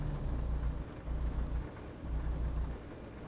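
Rain and thunder in the American Truck Simulator game at night, a dense steady hiss of rainfall with deep rolling rumbles swelling and fading in repeated waves, no voices.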